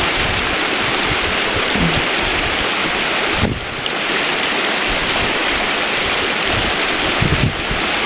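Creek water rushing steadily and loudly during a crossing of Sofa Creek, a continuous broadband wash with wind buffeting the microphone and no one speaking.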